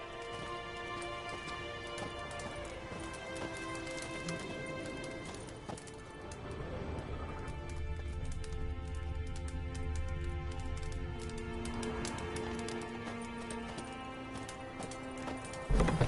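Horse hooves gallop in a steady, rapid clip-clop in the video game The Witcher 3, close and continuous beneath layered game music and ambience.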